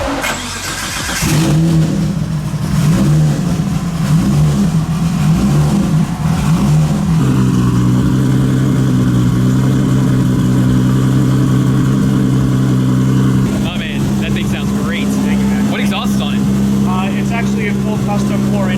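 A 1100 hp Nissan Skyline R32 GT-R with an RB26 engine and custom 4-inch titanium and aluminum straight-pipe exhaust fires up close by, settling into a loud, steady, rumbling idle with bursts of revving; a voice speaks briefly.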